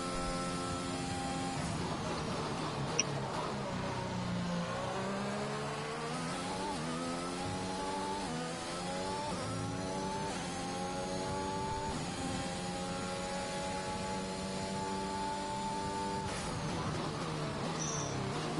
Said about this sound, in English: I've got the engine of a car